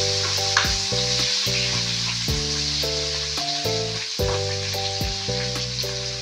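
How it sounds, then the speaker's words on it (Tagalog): Spices sizzling in a pan of hot oil while cooking a Filipino vegetable guisado, a loud, steady frying hiss close by, with background music playing over it. "Ating mga spices, sabay ko na lang lahat."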